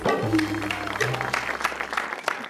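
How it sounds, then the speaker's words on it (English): An audience applauds at a Lucknow Super Giants cricket team fan event. The clapping is dense but moderate and sits alongside voices and some tonal sound near the start. "Big round of applause!"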